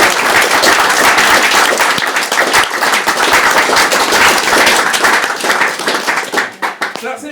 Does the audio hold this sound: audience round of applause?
yes